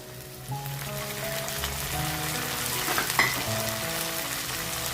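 Tomatoes hit a hot pan and fry with a steady, close sizzle and bubbling crackle, joined by soft background music, while quail chops are prepared.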